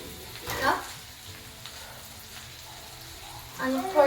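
Garlic sizzling in hot ghee for a mushroom roast, with soft frying crackle throughout and stirring bursts near the start and end, while someone talks at times.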